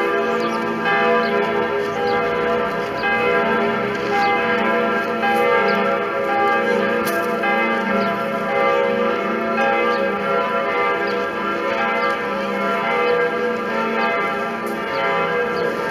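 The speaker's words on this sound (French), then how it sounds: "laisser entendre ces cloches à nos auditeurs" The bells of Notre-Dame peal continuously, layered ringing tones overlapping in a dense, sustained wash, loud and unbroken with no voices.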